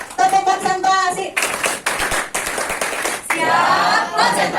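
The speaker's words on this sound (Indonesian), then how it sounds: "Tepuk tangan buat si semangat." A high school maths class clapping hands together in a chant-led rhythm, with patterned clapping bursts mixed with voices calling out, near and loud.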